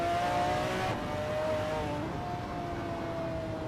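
A McLaren F1 GTR race car in a racing game laps Sonoma, its engine whining loudly and steadily with a high tonal note that steps between gears, heard alone without voices.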